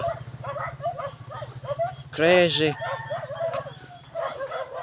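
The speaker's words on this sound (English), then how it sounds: "Crazy dogs." Several dogs yap and bark repeatedly at a distance near a small vegetable garden in the Philippines, with one louder, drawn-out animal cry in the middle over a steady low hum.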